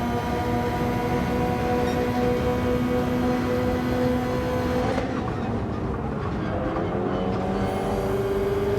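A Nissan GT-R GR.3 race car at Willow Springs in Gran Turismo 7 drones with a loud, continuous engine whine that dips and shifts pitch midway as gears change, with no talking.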